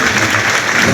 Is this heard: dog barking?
no